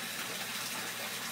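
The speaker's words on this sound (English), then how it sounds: "There's the bubbling," Continuous bubbling and gushing water in a large aquaponic fish tank, a steady close wash of sound with no pauses.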